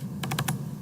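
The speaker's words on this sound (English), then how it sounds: "I'll type in B" A few quick keystrokes on a computer keyboard, about four taps in short succession close up, over a steady low electrical hum with no speech.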